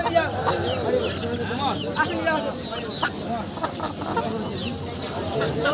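A native desi rooster calls at a busy poultry market, its crowing and clucks rising amid loud overlapping bargaining voices and general market bustle.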